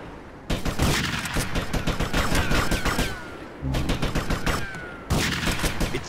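Rapid bursts of gunfire in the video game Grand Theft Auto: Vice City Stories, loud and dense like a fusillade, running in three sustained volleys with short breaks between them.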